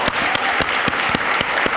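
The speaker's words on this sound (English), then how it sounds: "I want to give you a round of applause for that." Brief audience applause during a conversation with NFL receiver Marquez Valdes-Scantling, a short run of sharp, fairly sparse claps from a modest group at a moderate distance.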